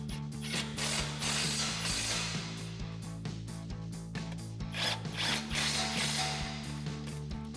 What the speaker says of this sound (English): So we'll get these tightened back down with our 21mm socket.